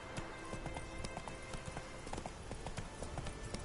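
Horse galloping in the video game Witcher 3, a quick steady clip-clop of hooves, faint and even, with a rhythmic drumming beat throughout and no voices.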